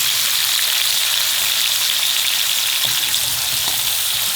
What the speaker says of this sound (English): we're going to quickly put this potato and aubergine in there and give it a quick fry